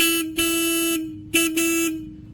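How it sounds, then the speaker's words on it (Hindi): A Jawa 42 motorcycle's single horn honks twice up close, two loud steady tones, each lasting about half a second, with a brief gap between. "इसके अंदर भाई ये खाली सिंगल हॉर्न है"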